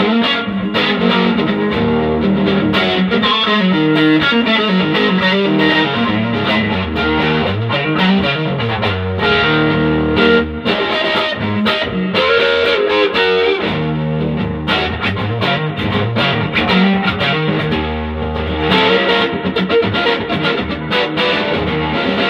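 Electric guitar played through a germanium fuzz pedal into a low-wattage 1959 DA20 amp with a reverb unit: thick, distorted, sustained chords and riffs, loud and continuous with reverb tail, no talking.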